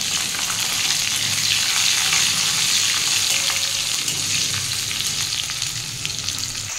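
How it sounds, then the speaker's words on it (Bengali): Vegetables fry in a pan for oats khichuri, giving a loud, steady sizzle that holds evenly from start to finish with no talking. "এবার যে সবজিগুলো রেখেছিলাম এগুলো একটু ভেজে নেব।"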